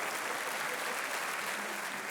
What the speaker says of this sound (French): Des applaudissements carrément.